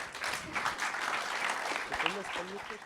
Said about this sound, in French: Ok, on peut applaudir ça.